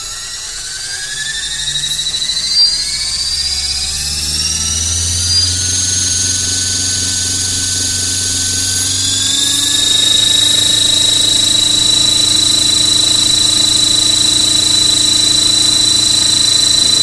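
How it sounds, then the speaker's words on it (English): A small electric RC helicopter motor, a 4000 kv Xtreme Productions Spin, whines steadily, its pitch climbing as it spins up into a high, sustained buzzing hum, loud and close. "You want to hold the helicopter when you power it up"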